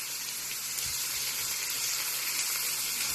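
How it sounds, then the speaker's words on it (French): Onions cooking in a pan give off a steady, continuous sizzle that holds at an even level throughout, with no voices. "Maintenant, je vais cuire les oignons en premier"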